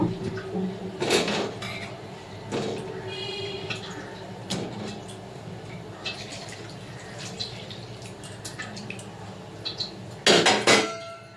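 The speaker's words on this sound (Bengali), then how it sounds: "দিয়ে দেবো এর মধ্যে কেটে রাখা বিরিয়ানির আলুটা" Cut potatoes for biryani dropped into a pot on a lit gas stove: scattered clunks and knocks of pieces hitting metal, with a louder cluster of bumps near the end and a faint wet trickle, no speech.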